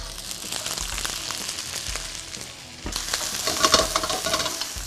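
Shrimp hitting hot oil with fragrant garlic in a pan, a dense near sizzle that swells louder partway through as the shrimp go in, with light stirring clinks underneath.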